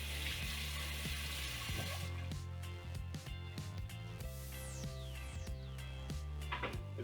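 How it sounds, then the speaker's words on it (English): Hands rinsed under a running kitchen tap while making iron skillet English muffins, a steady rush of water splashing into the sink with a brief surge partway through, close and fairly loud, with no talking. "Give my hands a quick rinse here."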